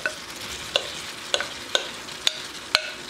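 Apples being stirred back into a thickened, boiling caramel mixture in a pan, with a soft bubbling sizzle broken by five or six sharp, regular clicks of a utensil against the pan, close and fairly quiet.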